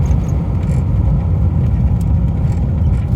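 A Fox body car on a test drive, heard as a steady, loud engine and road rumble from inside the cabin, continuous and without talk.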